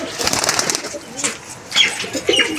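Pigeons coo in a loft, soft rounded calls rising at intervals over a low murmur of talk, with a faint rustle of movement nearby.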